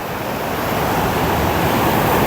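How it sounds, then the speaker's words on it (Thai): Strong sea waves break and surge on Surin Beach in Phuket, Thailand, a loud, continuous roar of foaming surf filling the whole stretch with no voices. "คลื่นแรงแต่ยังใสอยู่นะครับ ดูฟองนะครับ ฟองฟองของคลื่นทะเลนะครับ"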